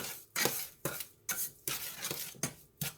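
Butter stirred in a pan over low heat for sweet potato caramel cinnamon rolls, about seven distinct scraping strokes of a utensil against the pan in an uneven rhythm, close and fairly quiet.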